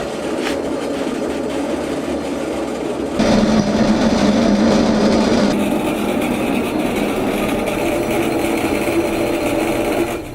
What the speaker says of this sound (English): So here we are in the grinder room.